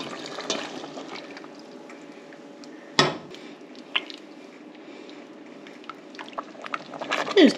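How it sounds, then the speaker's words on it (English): Flour water being poured into a boiling pot of canned deer meat, a soft liquid splash and squishing with a sharp clink from the pot partway through, then quieter bubbling and stirring sounds. "we're gonna add our flour water right into the pot."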